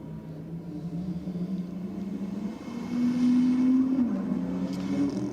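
A turbocharged drag car holds revs in pre-stage at Sydney Dragway, a steady droning engine note that steps up in pitch and loudness partway through as the boost builds, close and sustained.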